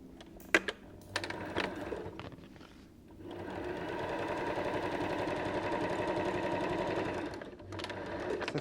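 A sewing machine stitches across the bottom of a fabric basket in one steady, close, continuous run of needle chatter lasting several seconds, preceded by a few clicks and handling sounds.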